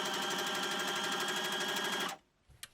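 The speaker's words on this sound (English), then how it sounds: "we're just going to sew along one of the sides and then down the bottom" Sewing machine stitching fabric along the side and bottom of a sewing machine mat, a steady, fast, even whirr for two seconds that stops abruptly, followed by a soft click.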